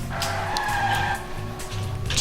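Race cars from the video game Trackmania roar with sustained high-pitched engine whines and shifting tones, with short gaps and tyre-skid-like bursts, played fairly quietly in the background.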